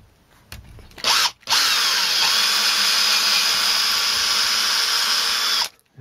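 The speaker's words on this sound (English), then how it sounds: "So we're just getting the debris out of the drill bit." A power drill spins to clear debris from its bit while building a Warlord Titan model base. A quick burst is followed by a brief stop, then a loud, continuous high whine holds for about four seconds up close before stopping abruptly.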